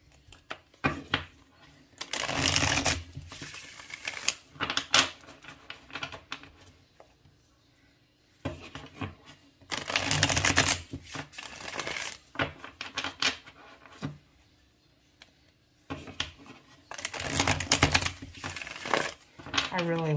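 A deck of oracle message cards shuffled in three long bursts of dense, papery riffling and flapping, separated by quiet pauses, fairly close and moderately loud.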